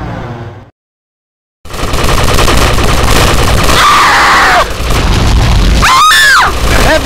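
Gunfire in the video game GTA Vice City Stories, loud bursts and booms crowding a busy, chaotic game soundtrack after a brief silent gap.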